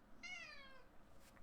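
A cat meows once, a drawn-out harmonic call lasting about half a second against a quiet room background, with no one speaking over it.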